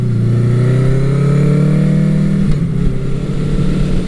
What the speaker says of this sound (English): right now you can see I'm revving pretty high in 5th gear in low range